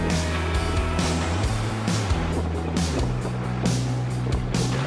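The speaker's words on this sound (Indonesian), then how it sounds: "Apalagi motor ini sudah ganti knalpot, makanya suaranya tuh kayaknya dipengen digas mulu" A Honda NM4 Vultus motorcycle engine fitted with an aftermarket exhaust runs close by, giving a loud, steady, throbbing rumble that lifts a little in pitch now and then without a break.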